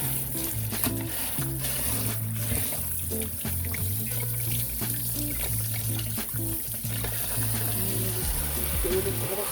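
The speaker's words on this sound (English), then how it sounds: "you want to rinse it with water" Running water rinsing pork bungs, a continuous splashing trickle over a low steady hum, with clattering handling sounds mixed in.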